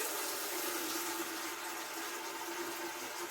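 Water pours steadily into a canning pot for a water bath, a constant broadband rush that stays even and fairly quiet, with no talk.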